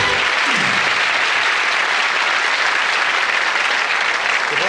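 Studio audience on a 1994 television game show gives a steady, sustained round of applause, dense and even clapping from many people filling the room for several seconds, with no voices over it.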